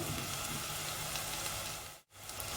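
Curry leaves hit hot oil with golden-brown fried onions for a mutton curry, giving a steady, close sizzle throughout that cuts out abruptly for a moment near the end before resuming.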